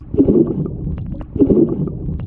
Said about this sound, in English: A good hand entry should sound like this.